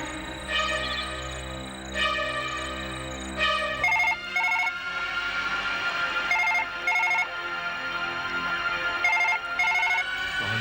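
A telephone in a horror drama scene sounds an electronic ring in short repeated bursts, a few seconds apart, fairly loud and close over a low, tense musical bed.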